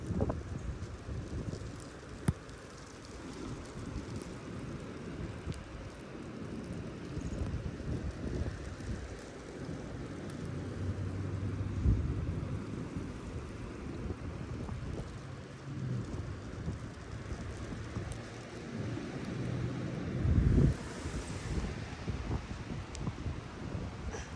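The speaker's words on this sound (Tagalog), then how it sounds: "Ulan." Winter rain and wind outdoors make a low, rumbling wash of noise that buffets the microphone, with gusts swelling at intervals and a few brief thumps.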